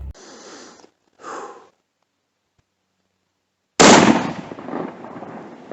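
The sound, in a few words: rifle gunshot while deer hunting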